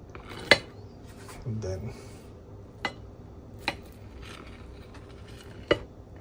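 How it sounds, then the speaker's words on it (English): An omelette naan pizza is cut into slices, giving a handful of sharp, scattered clicks and scrapes of a blade against a plate, with a short spoken phrase early on. "it's time to cut this pizza into slices"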